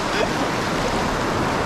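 A strong river current rushing loudly and close, a dense continuous roar of churning water filling the whole moment without a break.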